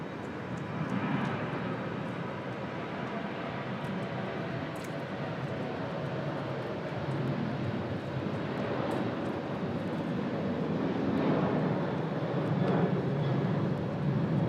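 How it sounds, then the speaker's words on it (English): A Delta airliner departs Raleigh-Durham airport bound for Atlanta, its engines giving a steady, broad jet roar that holds loud and constant throughout with a slight swell near the end. "We've got Delta 2052 off to Atlanta."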